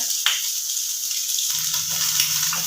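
Egg, potato and chicken pieces sizzle steadily in hot oil, a close continuous crackle with occasional stirring scrapes.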